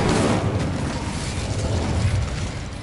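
Incendio fire spell cast in Hogwarts Legacy, a dense, continuous roaring blast of flame with heavy low rumble, loud and steady throughout.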